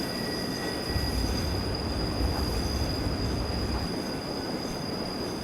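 A narrow-gauge train rolls along the Albula Line in Train Simulator 2017, heard from a carriage with the locomotive up ahead: a steady, close rumble of wheels on rails with a brief thicker low surge, under a faint high whine.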